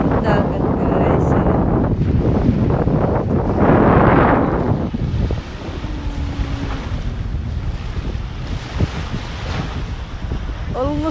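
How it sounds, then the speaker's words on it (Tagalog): Wind buffets the microphone and sea waves wash in at the seaside in Kuwait, loud and rushing at first, then settling into a softer steady surf with brief faint voices. "Ayan, yan yung dagat guys."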